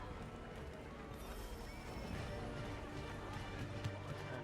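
Horses neigh and whinny with clip-clopping hooves in the Assassin's Creed III video game, a busy steady game soundscape with faint voices mixed in.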